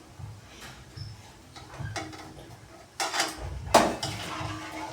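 Food is served onto plates, with dishes and cutlery clinking and clattering in irregular bursts, a few soft taps building to sharper, louder metallic clanks near the end, heard close up with no talking.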